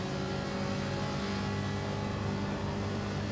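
Race cars in the Gran Turismo 7 video game hold a steady, dense engine drone throughout, fairly quiet and unchanging, with no talk.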